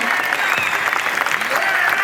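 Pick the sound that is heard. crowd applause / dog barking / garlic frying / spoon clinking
crowd applause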